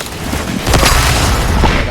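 A rocket explosion in a video game lands as a loud, dense boom partway through, its rumble sustained to the end over a noisy, crackling game mix.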